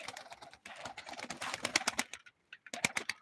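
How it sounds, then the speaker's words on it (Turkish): Young pigeon cooing in a loft, its soft calls mixed with rapid clicking and fluttering noises, close and fairly loud, with a brief quiet pause midway. "Büyüyen yavru söylüyor."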